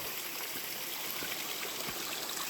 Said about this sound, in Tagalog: Ayan o, may sapa.